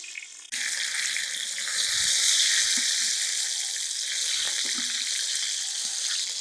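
Fish sizzles steadily in hot oil in a pan for Thai fish curry, a loud continuous crackle and hiss that starts abruptly and holds throughout.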